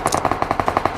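A short automatic burst of about ten rapid, evenly spaced shots rings out in the mobile game Free Fire, loud and close with no talking.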